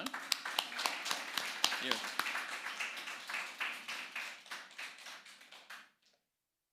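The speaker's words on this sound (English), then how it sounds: "Round of applause for Sean" Applause at a stock exchange market research awards ceremony, a modest room of people clapping in a steady patter for several seconds before stopping abruptly, with a brief spoken word near the start.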